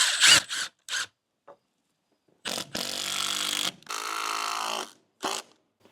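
A power driver sinks LedgerLok screws into a deck ledger board, with two sustained whirring drive bursts of a few seconds each, loud and close, after some short clicks and handling knocks.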